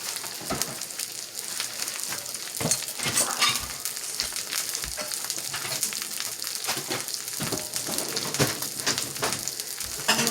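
Duck breast searing in a hot pan: a steady, close sizzle with spitting crackles and occasional pops running without pause.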